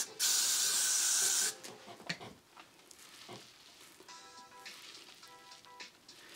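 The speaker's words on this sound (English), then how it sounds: "We also haven't sprayed down the sides a lot yet." Hairspray sprays in one loud, steady hissing burst of about a second and a half onto a drag king wig, followed by quieter handling noises and faint rustling.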